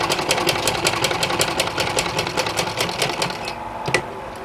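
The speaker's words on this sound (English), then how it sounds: "I'll take it in this way and carefully sew" A sewing machine stitches a pocket onto a tunic in a fast, even run of close mechanical clatter, pausing briefly near the end before one last burst.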